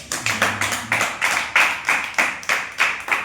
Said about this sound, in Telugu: చప్పట్లు గట్టిగా వస్తాయి